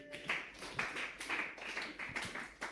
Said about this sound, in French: Applaudis l'Éternel.